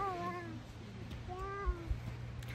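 Small kitten meowing outdoors in a park, two thin rising-and-falling mews separated by a pause, faint and close, with soft ambient noise and a couple of light thumps.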